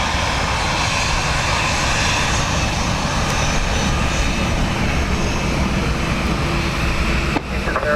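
Aircraft taxiing at Dublin Airport in windy, wet weather, a loud steady engine roar held for several seconds, ending in a brief sharp transient, with no talk.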